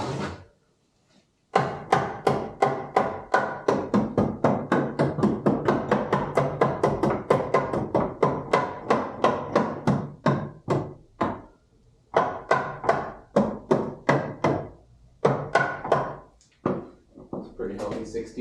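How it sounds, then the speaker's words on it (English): Pieces of a homemade wooden shelf are hammered into place in a long run of sharp, close knocks. The blows come in rapid steady bursts with brief pauses between them. "we can hammer that into place."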